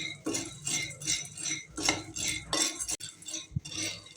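Roasted gram (putani) stirred in a metal pot on a stove, with rhythmic scraping and clinking of a spoon against the vessel in repeated strokes, fairly close and moderately loud.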